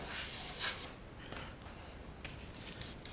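An airbrush sprays transparent base paint in a steady faint hiss for about a second, then gives several short, quieter bursts.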